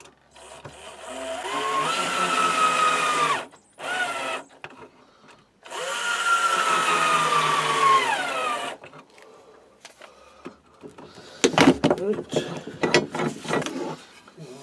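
A power drill drives screws into a scrap-wood side table in two long, close whirring runs, each pitch sliding as it slows, followed by a cluster of sharp clicks and clatter.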